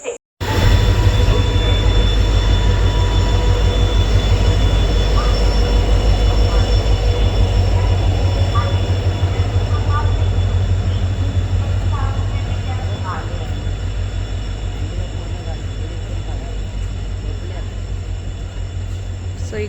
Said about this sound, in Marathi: सो इकडे आपली ट्रेन आलेली आहे